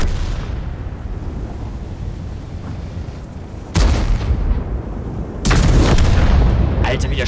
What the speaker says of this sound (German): habt ihr den Schuss gehört? Holy shit! Krass! Also da ballert er aber ordentlich was durch